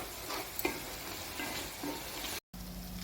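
Onion and tomato puree frying in oil for fish curry gives a soft, steady sizzle with a few faint ticks of stirring, broken by a short silence near the end.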